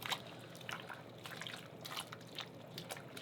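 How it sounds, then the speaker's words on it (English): Water drips and trickles as blanched kale is squeezed by hand, a faint, close patter of irregular drops and small splashes with no talking. "I'm just squeezing all the water out."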